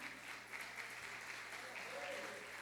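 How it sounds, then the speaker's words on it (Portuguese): A Portuguese-speaking church congregation applauds the Lord during a sermon, with a continuous, moderately loud patter of many hands and voices calling out beneath and through it. "Aplauda ao Senhor,"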